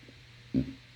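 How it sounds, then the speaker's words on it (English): A short, low, muffled burp after drinking wine, a single brief gurgle in the middle of an otherwise quiet moment. "Gee, I don't know why wine makes me burp."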